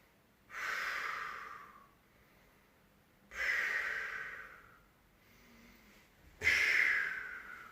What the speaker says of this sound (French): vous inspirez par le nez, vous soufflez par la bouche